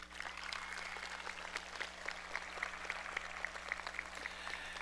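Steady applause from a graduation audience at Parkersburg High School, sustained and fairly even throughout, heard at a moderate distance in a large hall with a low electrical hum underneath.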